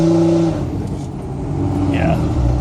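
Cummins diesel pickup truck, a 2004.5–2007 model, accelerating hard in a pull, the engine rising in pitch and growing louder, with a voice briefly over it.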